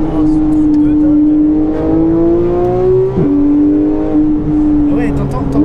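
A Porsche 991.1 GT3 with its 3.8-litre flat-six accelerates hard, the loud sustained engine tone carrying a high gearbox whine that climbs steadily, dips briefly at a shift, then rises again, heard from inside the car.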